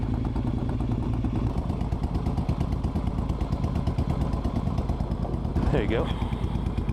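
A Royal Enfield 350 motorcycle engine runs close by with a steady, loud, rapid single-cylinder thump, rising briefly near the end as it revs. Someone speaks briefly over it.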